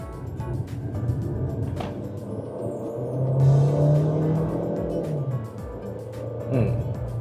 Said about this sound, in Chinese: 所以现在我们就换成这个 Normal Mode 来测试一下它的加速表现。